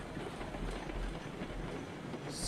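A locomotive in the video game RailRoads Online rumbles along the rails with a low, continuous rolling drone and faint clatter, steady throughout with a brighter hiss rising at the very end.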